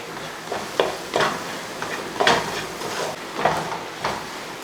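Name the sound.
stirring soya chunks sauce gravy in a pan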